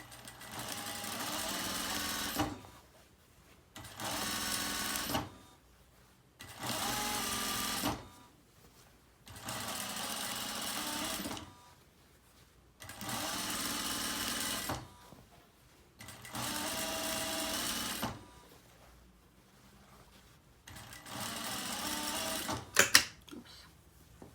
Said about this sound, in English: We're measuring 3/4 to sew. Begin at the side seam. Don't forget to backstitch as usual.